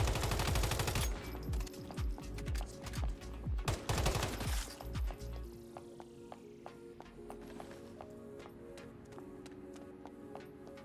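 Gunfire in the survival video game Once Human, with two loud, dense bursts of rapid shots early on, followed by scattered sharper single cracks and clicks over a quieter background.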